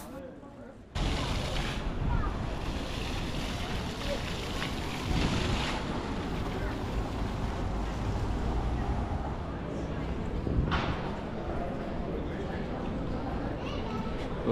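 Steady cool wind rushes across an outdoor microphone on a cloudy day in Salzburg, Austria, a continuous broadband roar starting after a brief quieter opening and holding with small gusts throughout.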